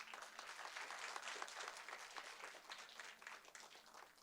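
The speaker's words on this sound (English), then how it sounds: "Let's give her a round of applause." Applause from an audience at a school board meeting, honoring the PTO president, heard as a quiet, steady patter of many hands clapping throughout without any talking over it.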